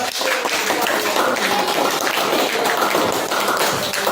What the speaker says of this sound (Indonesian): kita akan tepuk tangan untuk kelompok 2